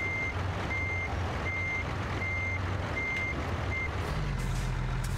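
Intermittent reversing beeps from a truck in American Truck Simulator repeat in short regular bursts over a low diesel engine idle, joined near the end by a louder engine rumble.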